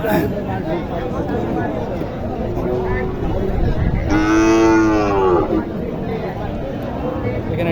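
Cattle at a village livestock market in Naogaon district, Bangladesh, where heifers are sold, give one long, loud bellowing moo in the middle, set against a steady background of crowd chatter and voices.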